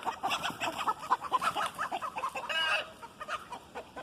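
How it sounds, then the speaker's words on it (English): A chicken caught in wire fencing on a farm clucks in quick, agitated bursts, close and steady, with other fowl nearby. "There's a chicken over there caught in the wire."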